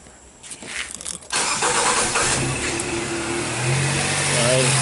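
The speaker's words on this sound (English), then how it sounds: "I want to start the vehicle." A 2006 Nissan Sylphy with a lean-running fault cranks and fires up, a brief starter whirr followed by the engine catching and settling into a steady, close idle, with a voice talking at the start.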